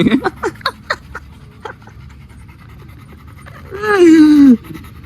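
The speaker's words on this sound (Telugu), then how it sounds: "సో చూడండి గైస్ ఎన్ని డాగ్స్ వచ్చినావు" Several dogs pant close by in quick, rhythmic breathy bursts, then a louder whining cry rises near the end before the breathing noise settles.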